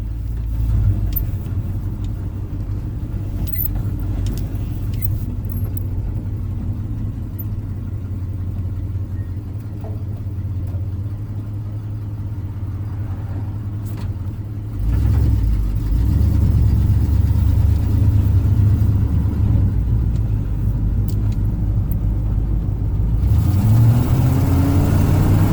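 Ford F250 camper special truck driving, with a steady low engine rumble from inside the cab that swells as it accelerates partway through.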